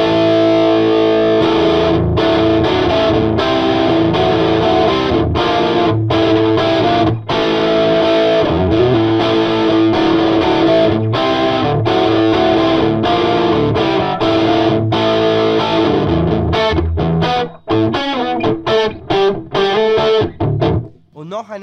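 A Les Paul electric guitar runs through a Meddle amp at high-gain distortion with the gain nearly maxed, playing loud, dense, saturated chords that ring steadily, then break into choppy stabs with short gaps toward the end.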